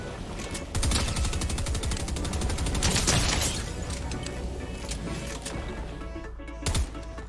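Pistol shots from the Fortnite Futurama update, fired in rapid, closely spaced volleys amid a busy, loud game soundscape, with a sharp burst near the end.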